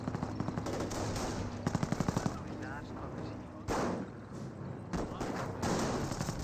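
Rapid machine gun bursts rattle through a Company of Heroes 1 battle as Volksgrenadiers fight from light cover, with a sharp fast burst near the start and continuous gunfire and battle noise throughout.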